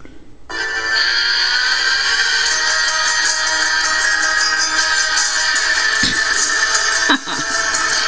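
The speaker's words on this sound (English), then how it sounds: "so here's my ringtone" An Android phone ringtone plays loudly and steadily, a bright electronic melody that continues without pause, close to the listener.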